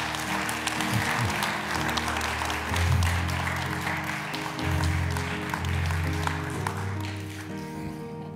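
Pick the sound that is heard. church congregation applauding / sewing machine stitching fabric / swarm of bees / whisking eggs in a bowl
church congregation applauding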